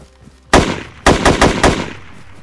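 Gunfire in the DayZ video game: one loud shot, then a quick burst of four close, sharp reports with short echoing tails.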